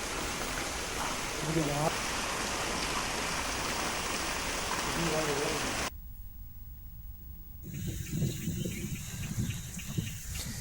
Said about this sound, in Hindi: करीब 20 मिनट तक जोरदार बारिश हुई।